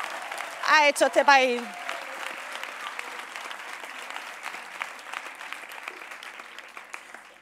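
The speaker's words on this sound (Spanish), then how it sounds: "yo creo que también nos merecemos un aplauso" A crowd at a Podemos political rally breaks into sustained applause after a speaker's brief shouted line, the clapping dense and even, continuing for several seconds and slowly thinning toward the end.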